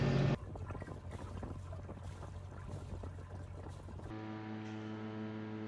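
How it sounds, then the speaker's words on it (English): A sailboat's engine runs steadily while motoring at night in gusty wind, a close, continuous low drone with a brief louder burst at the start and a shift to a smoother humming tone near the end, no voices. "it's a bit easier with the engine than going with the sails in this gusty winds"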